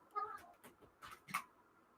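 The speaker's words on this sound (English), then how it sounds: "You hear the cat over there now?" A cat meows a few times, faint and somewhat distant, in short separate calls against a quiet background.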